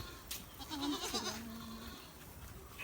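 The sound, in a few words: goat bleating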